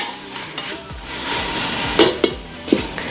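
Two tomatoes frying in a pan for chicken biryani, a steady close sizzle with a spoon stirring and scraping against the pan, a few sharp clinks near the end, no talk.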